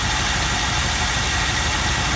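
A 1964 Buick LeSabre Wildcat engine, just started after 28 years sitting on blocks, idles loud and close with a steady, rough, unbroken rumble.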